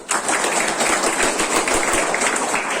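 An audience at a school ceremony at EMRS Chhote Mudpar in Raigarh claps steadily, a dense, even wash of many hands sustained without pause and no voices over it.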